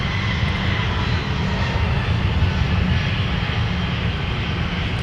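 Boeing 757-300 jet taxiing for departure at an airport, a steady loud engine roar with a broad low rumble and hiss holding even throughout, no speech.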